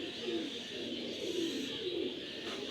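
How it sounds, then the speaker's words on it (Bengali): Pigeons coo softly and continuously nearby while birds are stamped and checked, a steady low murmur of calls under a constant background hiss. "উস্তাদের পঞ্চম এবং শেষ কবুতরটি সিল করা হচ্ছে।"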